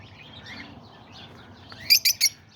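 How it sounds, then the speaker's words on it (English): Peach-faced lovebirds in a cage give three quick, sharp chirps close by, set against a quiet room with faint low hum and scattered softer calls before them. "I also got these new lovebirds. These are peach face."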